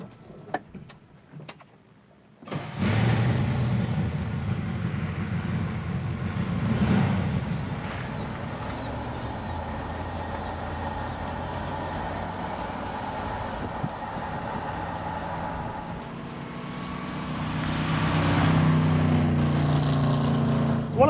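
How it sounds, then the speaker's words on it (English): A big-block Chevrolet Chevelle engine cranks and rumbles to life, then settles into a deep, loping idle that lopes steadily and swells slightly near the end. "One of the first things you notice about a Chevelle, especially a big block car, is the idle."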